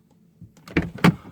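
A BMW 330e car door opens close by, with a soft mechanical click and then two sharper latch and seal sounds in quick succession.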